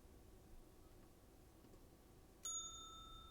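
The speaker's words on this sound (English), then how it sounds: "No hotel front desk is complete without a bell." A hotel front desk bell in the horror adventure video game Slender Threads, struck once with a bright ringing ding that lingers over quiet room hiss.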